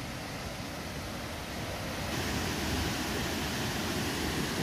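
Broadband rushing roar of the Curuá waterfall, heard steadily from a distance, growing slightly louder and denser partway through, with no voices.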